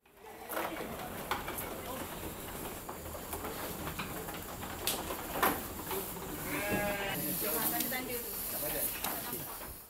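Sheep on a farm bleat a few times amid a busy, hissing background of pen noise, with sharp clicks and knocks scattered throughout and one wavering bleat standing out near the middle.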